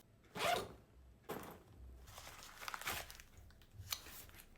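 A package of nail accessories, including stickers, being opened and unpacked by hand: close, fairly quiet bursts of crinkling plastic and zip-like tearing, spread across several seconds without speech.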